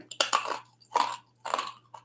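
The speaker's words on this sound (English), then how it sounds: "I should have really finished this Fox's Glacier fruit before. Oh, I know. It is crunchy. Can you hear this crunch?" Someone chewing a Fox's Glacier fruit boiled sweet: three loud, close crunches in a slow rhythm, each a brittle crackling burst, followed by a smaller fourth crunch.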